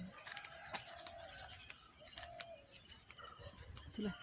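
Outdoor ambience on a morning walk near lotus flowers, with a constant high insect drone and scattered bird chirps and calls, fairly faint and distant, with no talking.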